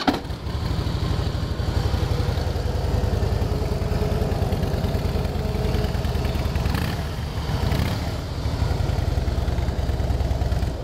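A 2011 Harley-Davidson Fat Boy Lo motorcycle with low mileage idles steadily nearby, its engine making a loud, rhythmic, lumpy thrum that holds throughout with a couple of brief dips.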